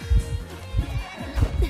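A horse in a video game neighs and whinnies in rough, rhythmic pulses at moderate loudness, with no one speaking.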